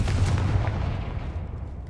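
A Confringo fire-blast spell in Hogwarts Legacy bursts loud and close, a heavy booming explosion with a rumbling low tail that fades over about two seconds, with no voices.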